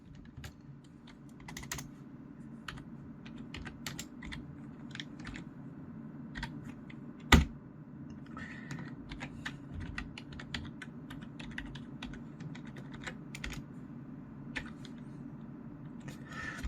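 Commands are typed on a computer keyboard during an Arch Linux setup: soft, quick key clicks in irregular bursts, close but quiet, with one sharper clack partway through.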